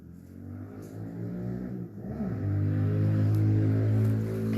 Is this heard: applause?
no